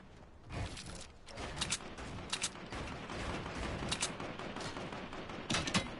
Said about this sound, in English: stop shooting at my base, kid